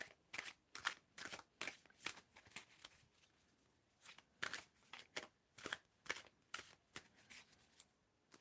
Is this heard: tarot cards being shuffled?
yes